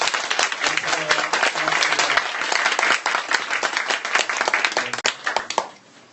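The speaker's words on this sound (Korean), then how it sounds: "박수 한번 하십시오" A church congregation claps steadily for several seconds, dense and lively, with a voice speaking faintly underneath before it fades.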